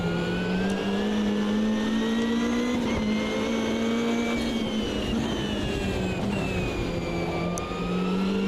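A race car engine in the sim racing game Automobilista 2 holds a steady high drone, its pitch rising and falling slightly through the run, close and loud with no talk.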